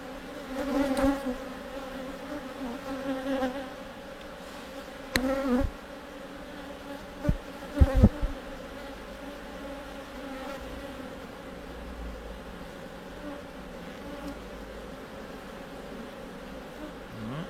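Honey bees buzz steadily over hive frames in a sustained, close, layered drone with a few brief knocks and handling thumps midway.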